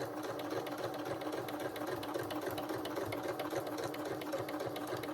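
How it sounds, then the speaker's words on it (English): A sewing machine runs steadily, edge stitching the seam allowance down to a skirt side for a dress, a continuous close whirring hum with a rapid needle rhythm and no pauses. "So you're just stitching your seam allowance to your skirt side."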